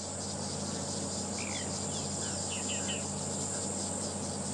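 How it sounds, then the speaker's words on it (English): A rattling cisticola's quick, scratchy rattling call repeats faintly over a loud, constant drone of insects in open country. "We can also hear the rattling cisticola, which is a very common call to hear out here."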